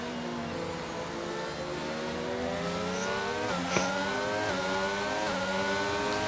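Race car engine from a Saudi Arabia round of a sim racing league, holding a steady high rev with rising pitch through the gears and a brief click near the middle, continuous and close.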